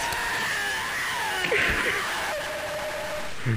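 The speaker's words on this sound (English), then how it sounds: "What's with all these horrifying screams?" Distant, eerie screaming echoes through a dim horror-game setting in Poppy Playtime Chapter 3, a faint wavering wail rising and fading under steady ambient hum, with no talk over it.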